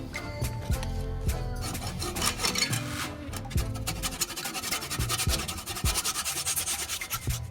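Rough scraping and rasping strokes of cutting into a microwave oven transformer for a homemade welder, repeated in an uneven rhythm, close and fairly quiet with no talk.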